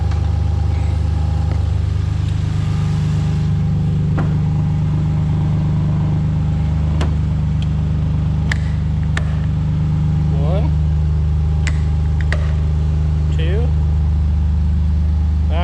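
A warmed-up Subaru Impreza with a swapped EG33 turbo flat-six idles steadily and close by, a low, even rumble with occasional small revs over the whole stretch; a person talks over it.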